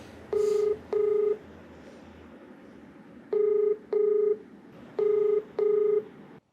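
A telephone dials out on a call-in television program, sounding six clear DTMF keypad tones in three pairs, evenly spaced, close and distinct over a quiet background.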